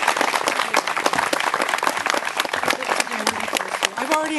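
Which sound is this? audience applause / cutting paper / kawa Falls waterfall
audience applause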